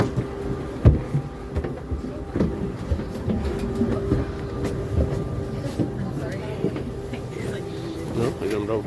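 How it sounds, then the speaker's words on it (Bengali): Heard from the upper deck of a Dutch double-decker passenger train leaving a station in the Netherlands: low rumbling, intermittent knocks and clicks, with voices nearby. "দর্শক, এই যে ট্রেন ছেড়ে দিল"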